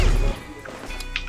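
Flashbang grenade in a first-person shooter game going off as a heavy low crash, followed by ringing tones and small clicks as it fades. The sound is loud and close, and nobody talks over it.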